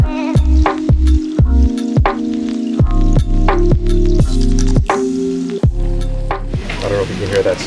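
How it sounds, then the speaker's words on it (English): Rice hitting a heated stone bowl, loud close sizzling with bursts of wet crackling and popping in an uneven rhythm, faint talk now and then. "I don't know if you can hear that sizzling, guys, but it's a stone bowl that's been heated"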